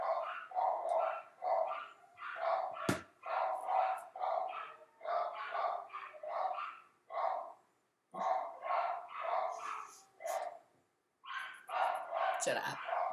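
Small dogs bark and yip indoors in repeated bursts, close and fairly loud, with short pauses between volleys and a few sharper yelps near the end.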